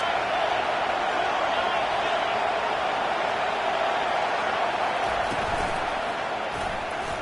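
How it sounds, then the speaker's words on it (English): Dense, steady roar of a large college football stadium crowd, loud and sustained throughout with no clear individual voices standing out. "It is getting loud as this crowd tries to help its defense."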